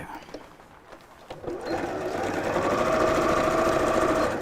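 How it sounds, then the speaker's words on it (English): After a short quiet start, a sewing machine stitches straight across the base of a fabric bag, running in a continuous, close, whirring hum until the end. "I'm going to open up the base and sew straight across"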